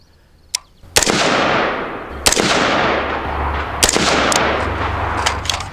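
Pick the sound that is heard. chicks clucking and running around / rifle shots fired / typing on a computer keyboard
rifle shots fired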